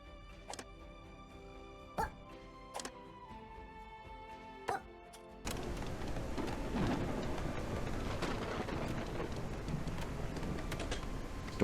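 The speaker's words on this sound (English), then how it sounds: "Stormy weather." Stormy weather in the city-building game Whiskerwood: a few sharp clicks at first, then a steady, loud wash of rain with rumbling thunder in the background.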